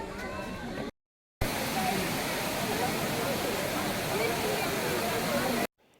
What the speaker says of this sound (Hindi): इससे आगे मैन मेड झरने बने हुए हैं